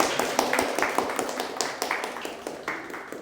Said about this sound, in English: You can give me some applause, and that'll be my reward.